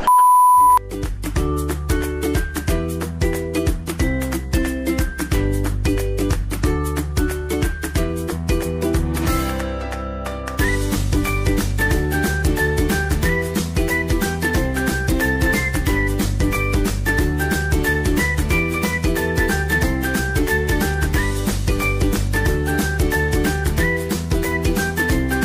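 Repeated electronic beeps sound while a phone call waits to be answered, a steady, evenly spaced ringing tone with a short pause partway through, then continuing unchanged.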